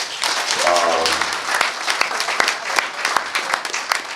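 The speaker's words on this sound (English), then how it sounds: "Round of applause." Audience at a community awards event breaks into brisk, dense clapping that holds steady for a few seconds, with a voice heard briefly near the start.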